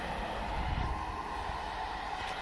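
Train passing at West Allerton station, a steady, fairly faint rolling rumble with no voices.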